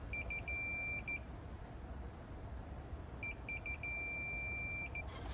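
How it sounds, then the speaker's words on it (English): Multimeter continuity beeps while testing an iPad Pro 12.9 5th gen battery connector, a run of short high electronic chirps followed after a pause by another series of beeps and one sustained tone, faint over quiet room noise. "we're going to switch and see if we have continuity"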